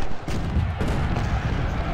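Cannon and artillery fire rumbles through a Civil War battle in the Ultimate General: Civil War video game, a loud, continuous low barrage of overlapping booms with a sharper burst near the start.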